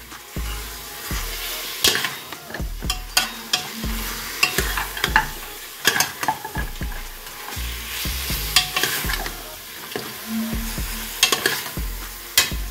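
Garlic sizzles in a soup pot for homemade chicken vegetable soup, a close, steady frying hiss punctuated by frequent spoon stirs and clanks against the pot.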